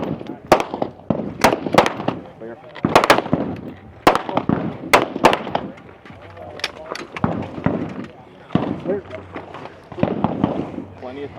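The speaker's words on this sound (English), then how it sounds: "9 shots each." Rifle and pistol gunshots at a tactical shooting competition stage in Idaho: sharp, irregular shots spread across the clip, ringing out over steady outdoor background and faint talk.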